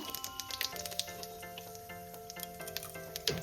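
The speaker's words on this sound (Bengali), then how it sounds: "এবার আমি ওই তেলের মধ্যে দিয়ে দেবো ফোড়ন। ফোড়নে দেবো হচ্ছে একটু গোটা জিরে দিয়ে দিলাম সামান্য।" Whole cumin seeds sizzle and crackle in hot frying oil, a steady hiss with scattered sharp pops, partly masked by sustained background music tones.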